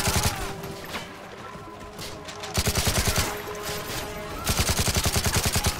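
Rapid bursts of gunfire from the video game Call of Duty: Modern Warfare 3, with loud automatic volleys separated by brief lulls of quieter game noise.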